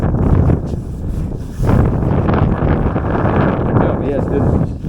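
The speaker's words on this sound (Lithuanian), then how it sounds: "Jo, vėjas didelis." Strong wind buffets a microphone outdoors beside a swimming pool on a scooter trip, roaring loudly and continuously with gusty surges and a brief dip in the middle.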